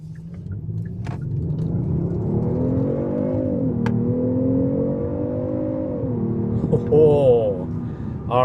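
Kia K900 accelerating with its enhanced engine sound, a smooth steady rumble whose pitch climbs gradually, dips, then climbs again. It stays up close and moderately loud, with brief speech and a short chime-like tone near the end.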